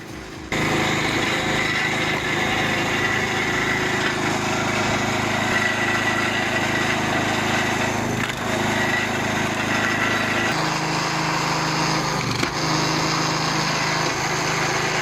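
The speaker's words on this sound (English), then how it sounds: "A wood splitter running on 8 kilowatt might look weak, but it slices wood clean with low noise and crazy efficiency" An 8 kilowatt wood splitter running steadily while splitting firewood, a loud continuous motor drone with slight pitch drops as the load changes, close and uninterrupted.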